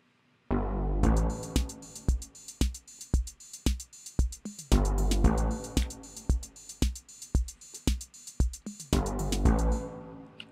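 A repeating beat loop from the Beatmaker app by Splice, with a bass line layered underneath, plays in clear rhythmic bars of punchy hits, close and alone without talk.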